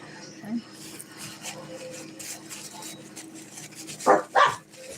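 Several dogs yip and bark indoors: two sharp, loud barks near the end stand out over quieter earlier whimpers and yaps, with people talking through the background.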